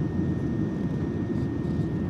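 Steady broadband roar of an ANA Boeing 787-10 cabin during the landing approach, a dense constant low rumble and hiss filling the whole stretch with no talk.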